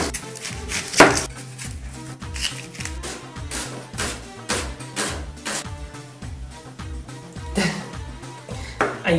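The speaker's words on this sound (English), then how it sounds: "I'm going to cut the onion now." An onion is chopped with a knife on a board in a fast, steady run of close, crisp thuds, with a few heavier knocks among them and no talking.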